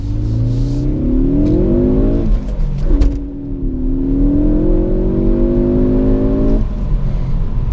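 A 2017 Ford Focus ST accelerating in first gear on a snowy, slippery road, heard from inside: the engine note climbs steadily, drops briefly at a shift around three seconds, then rises again, loud and close with no talk.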